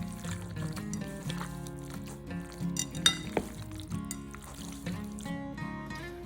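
Meatloaf ingredients seasoned with celery salt being mixed in a bowl, heard as close clinks and knocks of a utensil against the dish with soft wet stirring, several sharper taps standing out midway.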